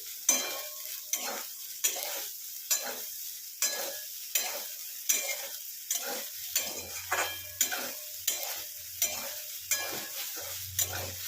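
Soybean chunks frying in a kadai with a steady sizzle, stirred by a utensil in regular scraping strokes about every half second, close and fairly loud throughout.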